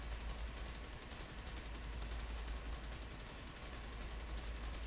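Continuous rapid gunfire from an exotic weapon in The Division 2 video game, a steady dense rattle with no break, fairly faint and without talking.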